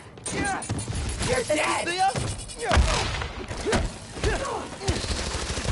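Glow stick guns fire in rapid bursts during a Spider-Man: Miles Morales game fight, with impacts and thuds mixed with loud combat noise as voices talk over it.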